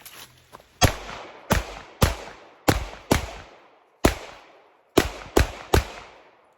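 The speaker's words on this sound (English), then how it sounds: "I'm gonna try going the other direction now, shooting kind of across my body and see how it works like that." Eight sharp pistol shots from a handgun fitted with a Holosun 507C optic, fired outdoors at an uneven pace in small clusters, each loud crack trailing off quickly.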